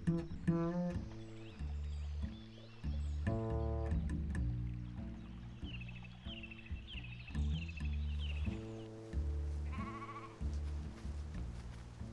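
Sheep on the Mijnweg heathland in Roerdalen, Netherlands, bleat repeatedly and close by, with several overlapping calls from the flock in quick succession and brief pauses between them.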